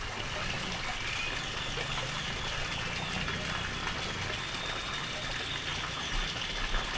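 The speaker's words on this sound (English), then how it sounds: "And here we have a beautiful fish pond and another fountain." A garden fountain beside a fish pond splashes with a steady, dense rush of falling water that holds constant throughout.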